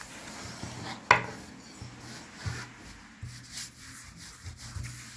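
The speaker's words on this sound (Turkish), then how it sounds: "Unla ve oklavayla açıyoruz." Dough being rolled thin with a rolling pin on a floured cloth over a floured counter for Turkish börek, giving soft repeated rubbing and rolling strokes with one sharper knock near the start, close and fairly quiet.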